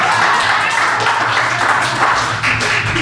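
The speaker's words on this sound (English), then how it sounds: "I'll take applause for that" Audience applause at an election night open forum on county business property taxes, a dense, steady wash of clapping from a crowd lasting the whole stretch, fairly loud and even.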